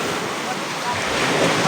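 Rough surf churns and crashes continuously along a beach in Quezon province, mixed with steady wind buffeting the microphone; the roar swells slightly louder toward the end, with no voices over it.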